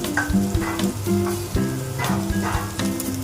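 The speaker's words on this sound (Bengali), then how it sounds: "আলুটা প্রায় ভাজা ভাজা হয়ে এসছে এবার আমি কচি ডাটাগুলো দিয়ে দিলাম" Diced potatoes and tender drumstick stems sizzle steadily in a pan, with a utensil stirring and scraping in irregular clatters over the continuous close frying hiss.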